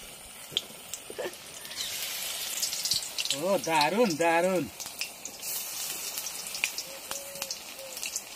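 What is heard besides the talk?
eggplant fritters frying in oil on a boat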